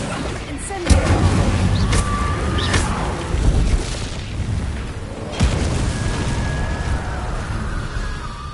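An Incendio fire spell cast in the Hogwarts game, giving a deep whooshing boom followed by a rumbling burst, with a second boom later, under game music and ambience.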